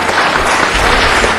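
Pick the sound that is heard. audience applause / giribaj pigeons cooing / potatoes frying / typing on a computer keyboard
audience applause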